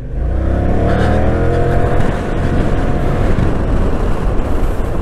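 A KYMCO AK 550i maxi-scooter accelerates hard, its engine note climbing loudly and steadily for several seconds with continuous road and wind roar.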